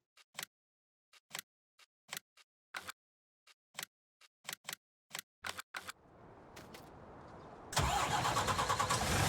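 A semi truck engine in Farming Simulator 19 cranks over in a series of short separate bursts, then catches and settles into a steady idle that swells louder near the end, with no talking.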